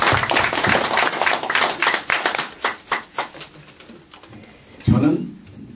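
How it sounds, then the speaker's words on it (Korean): An audience claps at a Korean patriotic lecture by Dr. Lee Heung-no for a national unity group. The dense, steady applause thins into scattered claps before stopping. "우리 모두 박수 칩시다."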